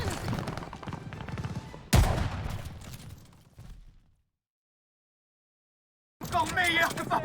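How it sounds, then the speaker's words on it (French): Battle gunfire in Call of Duty Vanguard at Stalingrad, a dense rumble of shots and explosions mixed with voices, a sharp loud blast near two seconds, then silence before the din returns. "On essuie des tirs d'en haut."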